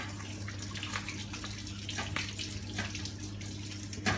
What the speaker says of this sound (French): On prend un peu de savon. On découle les os et on se lave bien les mains avant et après.